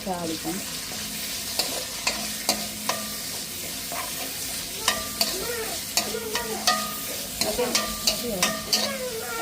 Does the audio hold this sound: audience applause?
no